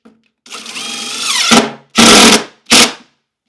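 Power drill driving screws through a slightly warped board into milk crates: a rising whir as a screw goes in, then two short sharp bursts, close and loud.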